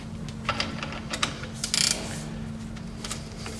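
A spring compressor being screwed down on a Vauxhall Astra J front shock spring gives faint, irregular metallic clicks and ratcheting ticks over a low steady hum.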